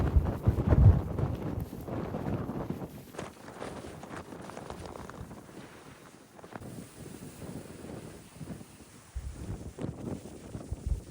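Strong coastal wind at Stanley, Tasmania, roaring in loud, gusty bursts with buffeting against the microphone, easing briefly mid-way and then surging again.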